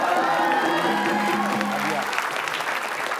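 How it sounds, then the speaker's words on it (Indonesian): Studio audience applause rolls steadily at a television game show, a dense even wash of clapping mixed with a voice and faint music tones, tapering slightly toward the end. "tepuk tangan."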